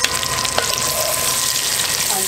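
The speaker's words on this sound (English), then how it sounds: "I'm just going to add in my onions. And I'll just stir them around in this good old bacon grease" Onions sizzle loudly in rendered bacon grease while being stirred, a dense, constant frying hiss close up with a few faint scrapes and clinks mixed in, and no speech.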